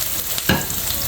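Onion sautéing in a pan with green chillies and green garlic, a brief close sizzle that swells midway as the pan is stirred, with no voices.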